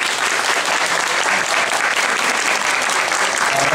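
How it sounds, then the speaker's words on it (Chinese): Sustained crowd applause welcoming a city mayor at the Beigang Chaotian Temple Mazu pilgrimage gathering, loud, dense and steady for the whole stretch with no voice over it. "热烈掌声欢迎咱的双港市长"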